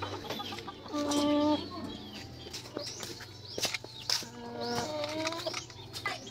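Chickens cluck in a farmyard with several soft, nearby calls and short clucking phrases, over a low background hum and scattered faint knocks.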